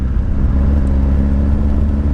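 A Suzuki GSX-R1000R superbike engine runs with a steady, close mid-pitched drone and low rumble, holding an even note without revving up for about two seconds.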